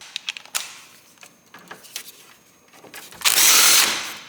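On a Volvo XC, a power tool works a bolt loose: after a few light clanks and taps, a short, loud, whirring burst of about half a second spins up close by and then stops.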